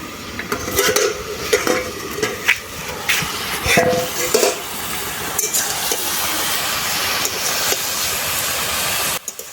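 Soaked Gobindobhog rice is ground for a bottle-gourd shukto, making a rough, continuous scraping grind with scattered knocks and clatter up close. The sound stops abruptly near the end.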